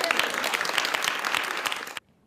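A crowd claps and cheers over the signing of a new law, with dense, steady applause and scattered shouts that continue loudly, then cut off abruptly near the end.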